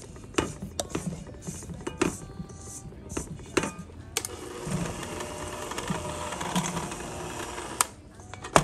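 An electric mixer on medium-low speed works through pistachio sablé cookie dough with flour, giving a steady, close mechanical whir with clicking and knocking as the beaters churn the thick dough, with no talk.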